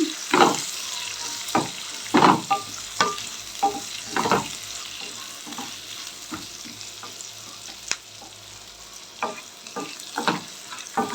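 Half a kilo of potato chunks frying in a pan for a potato gravy, with steady sizzling and intermittent stirring scrapes and clatters, close and moderately loud, no talking.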